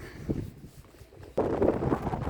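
Gusty wind by the open ocean at a castle in France rushes against the microphone, easing briefly and then surging louder, with no talking.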